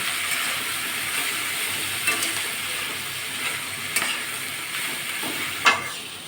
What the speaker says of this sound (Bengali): এবার আমি এটা ভালো করে একটু ভেজে নেব।